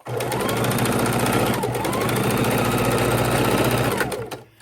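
A sewing machine lock-stitching a potholder at close range, a steady rapid mechanical whir with a fast needle chatter that runs unbroken for about four seconds before slowing and stopping.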